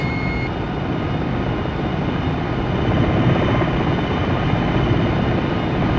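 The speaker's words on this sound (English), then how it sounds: "Enemy choppers. 10 o'clock." Enemy helicopters in a Black Hawk combat video game give off a steady, loud rotor and engine drone that fills the whole stretch without a break, rising slightly toward the end.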